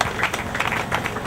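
A crowd at a funeral service claps briefly and steadily, a short burst of applause with no spoken words over it.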